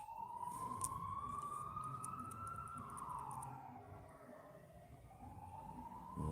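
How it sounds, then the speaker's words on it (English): An ambulance siren wails in a slow rising and falling tone, faint and distant, passing by and fading over several seconds. "that's like the third fucking ambulance that have raced past"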